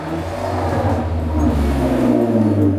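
A truck engine revs up close, with a rising, whirring mechanical tone that climbs and holds over about three seconds, loud and steady with no voices.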